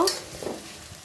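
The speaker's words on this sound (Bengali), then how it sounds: "দেখো অনেকগুলো পেঁয়াজ দিয়ে দিয়েছি, পেঁয়াজগুলো ভেজে নেব" Onions frying in a pan while cooking lau shaak (bottle gourd greens), a short soft sizzle with a brief stirring scrape, close and steady, no voices.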